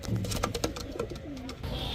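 Pigeons at a pigeon seller's farm give a brief, low coo against quiet background noise.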